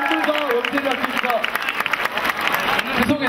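An audience applauds at the 2011 Akaraka festival at Yonsei University. The clapping is steady and moderately loud, mixed with crowd noise, and an amplified voice talks over it.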